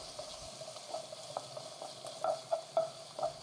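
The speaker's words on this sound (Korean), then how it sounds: "마늘 향이 올라오면 썰어놓은 양파를 넣고 볶습니다" Sliced onions and garlic stir-fry in olive oil in a wide pan, with a soft steady sizzle and a few light spatula scrapes near the end.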